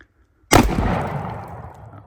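Shotgun firing number 6 birdshot into a regular interior wall indoors, a single loud sharp blast after a short silence, trailing into a long decaying echo.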